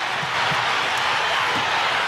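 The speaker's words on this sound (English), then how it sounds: "You hear that crowd?" Crowd in an All Japan Pro Wrestling arena, a dense, continuous roar of cheering from a large audience, loud and sustained with a few thumps underneath.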